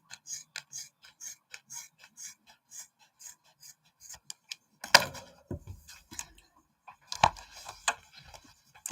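Sharp scissors snip through fabric for sewing in a run of short, crisp, rhythmic cuts with brief rustles of cloth between them, close and fairly quiet.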